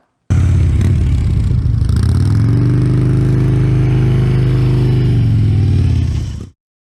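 A motorcycle engine running at low speed through a slow U-turn and an offset cone weave gives a steady, even hum that holds for about six seconds, then cuts off abruptly.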